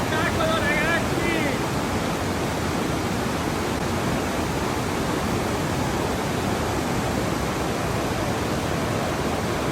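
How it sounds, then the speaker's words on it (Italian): The Velo de Novia waterfall, 120 metres high, sends up a steady, dense roar of falling water that fills the whole stretch evenly and loudly, with a faint voice-like trace only at the very start. "Siamo arrivati ragazzi al cascata Velo de Novia, che è la cascata del velo della fidanzata"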